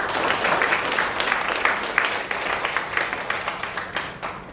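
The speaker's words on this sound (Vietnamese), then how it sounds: "Xin các bạn một tràng vỗ tay nhé." An audience applauds after a talk on showbiz, art and mass culture, a dense sustained burst of many hands clapping close by that slowly thins toward the end.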